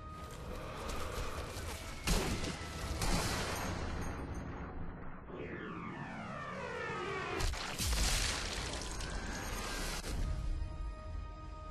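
Gunfire in the video game Sniper Elite V2, with repeated loud shots and booming blasts over a dense rumbling battle background, including a whooshing pass near the middle.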